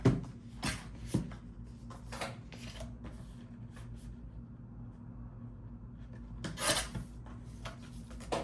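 Scrapbooking paper mat being trimmed down by a quarter inch, heard up close as soft rubbing and scraping strokes with a few louder swipes at the start and end, with no talking.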